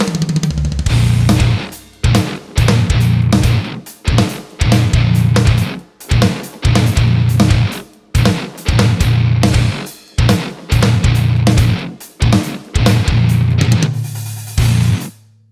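Heavy distorted metal guitar riff, with chugging, stop-start palm-muted bursts in an uneven, syncopated rhythm, loud and close.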